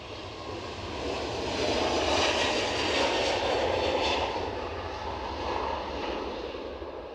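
A WestJet airliner passes at Edinburgh Airport, a moderately distant, steady engine roar that swells and then eases slightly over several seconds, heard alone without voices.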